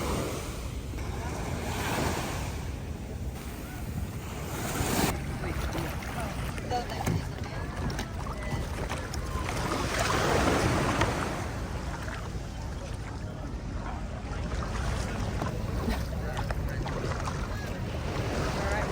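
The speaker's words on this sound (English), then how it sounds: "You actually have to take one of the little kayaks to your boat rather than just walk in." Water splashing and sloshing around a small kayak at sea in El Nido, with wind noise and faint voices in the background.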